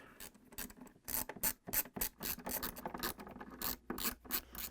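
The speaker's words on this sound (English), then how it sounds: "I'm using a 1/4-inch socket wrench with an extension, and I'm going to take it out" A 1/4-inch socket wrench with an extension backing screws out of a Frigidaire refrigerator drip pan, making quick, uneven bursts of close ratcheting clicks separated by brief pauses.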